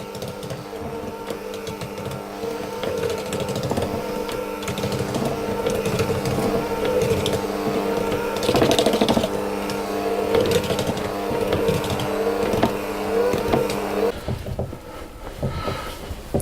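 Electric mixer on slow speed stirring flour into Cherry Madeira cake batter, a steady whirring hum with a rattling motor tone that runs continuously and then stops near the end.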